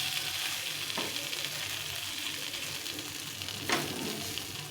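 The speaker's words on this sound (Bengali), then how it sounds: "দিয়ে হালকা হাতে এটাকে নেড়ে চেড়ে মিশিয়ে নিতে হবে।" Leftover roti snack frying in a pan on low heat, a steady close sizzle with soft scrapes of stirring, including a brief louder scrape near the end.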